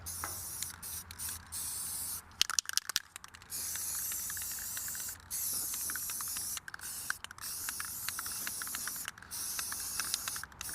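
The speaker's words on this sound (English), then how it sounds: "God, I love the smell of spray paint." A spray paint can hisses in long steady bursts while coating an old trailer being turned into a flatbed, with short pauses and faint rattles between sprays, close and continuous, no talking.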